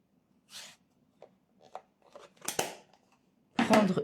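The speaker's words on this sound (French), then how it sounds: "je vais donc prendre une chute" Scissors snip through a scrap of printed paper, a few short separate crisp cuts close up in a quiet room, ending with a louder, longer slice.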